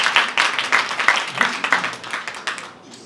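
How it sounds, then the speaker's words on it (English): A small audience gives a round of applause at a motivational talk: several seconds of fairly close, steady clapping that fades out at the end. "Can you please give them a round of applause?"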